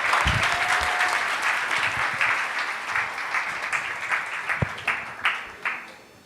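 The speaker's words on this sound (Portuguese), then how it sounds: "Salva de palmas para os três." A church congregation at a Sunday evening service applauding: dense, continuous clapping from many people that slowly thins toward the end.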